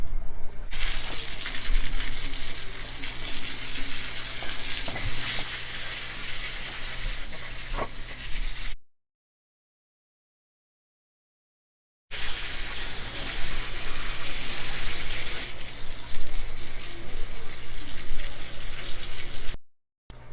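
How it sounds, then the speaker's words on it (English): Water gushing from a hose outdoors to rinse aquarium rock for a saltwater tank, a loud continuous splashing rush that cuts out for a few seconds midway, then resumes, no talk. "let's go ahead and get this rock outside, get it cleaned"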